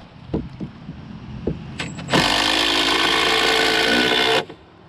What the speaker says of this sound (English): Just put that up like that and throw screws in it.